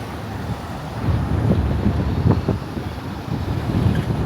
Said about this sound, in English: It does get quite windy here